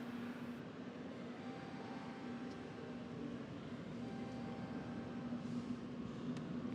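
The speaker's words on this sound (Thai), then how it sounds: "มีรถไฟวิ่งนี่หว่า" A steady, low rumbling drone of a train rolling along rails in Bangkok, continuous and moderately distant, with a faint tonal hum and no voices.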